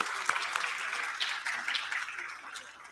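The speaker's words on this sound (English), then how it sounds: "Can we clap for them, please?" A school audience at Seth M.R. Jaipuria School in Lucknow applauds its vice principals during a prize ceremony, moderately loud clapping with a few sharper individual claps standing out.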